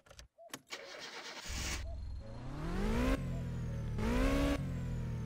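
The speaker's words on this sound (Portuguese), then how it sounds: "O motor do carro tá vibrando muito, velho." A Ricochet car engine cranks and catches, then revs up twice in rising, falling sweeps before settling into a rough, vibrating idle, close and loud with no talking.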